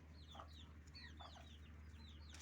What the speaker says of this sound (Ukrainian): Так, ось такі у нас курчатка, е, бентамочки.